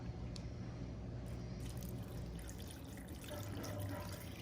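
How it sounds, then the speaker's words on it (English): Chicken juice from an Instant Pot pours steadily into cornbread dressing, a continuous close liquid trickle and splash lasting the whole stretch with no voices. "To get it moist, I'm gonna add in the juice from our Instant Pot"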